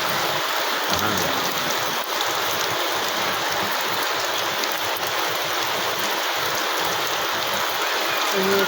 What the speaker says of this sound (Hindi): अपने गाँव में बारिश हो रही है।